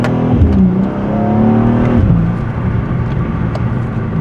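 A 2024 BMW M2 G87, pre-facelift, heard from inside the cabin as its engine revs up and shifts, the tone rising and dropping back before settling into a steady loud drone.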